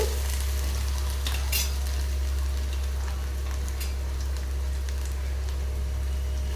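Ginger and garlic go into fenugreek seeds frying in hot oil for lemon pickle, and a steady sizzle runs throughout under a constant low hum, with a few brief stirring scrapes near the start.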